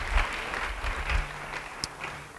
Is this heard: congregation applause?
yes